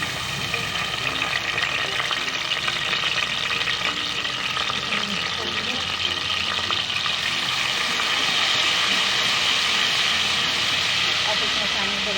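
Cumin seeds and ginger garlic paste frying in hot oil in a pan for a potato and spinach dish, giving a steady loud broadband sizzle throughout while someone talks over it.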